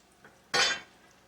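A single short scrape and rustle as mushrooms, onion and leeks are stirred in a pan, one quick stroke over a faint background sizzle, close and clear, no talking.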